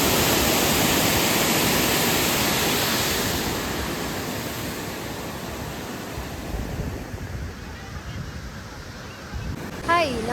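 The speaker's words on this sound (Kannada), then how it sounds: "ಇಲ್ಲೊಂದೇ ಕಡೆ ವಾಟರ್ ಫ್ಲೋಸ್ ಜೋರಾಗಿರೋದು, ಸೌಂಡ್ ಕೇಳಿಸ್ತಿದೆ ಅಲ್ಲ." Water rushes out of an open gate at Arkavathi Dam as a dense, steady roar. It is loud at first and eases slightly toward the end.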